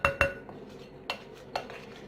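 A spoon stirs dry fruit pulao in a microwave dish, giving two sharp clinks at the start and then a few softer scraping knocks spaced out, close and fairly quiet, with no talking.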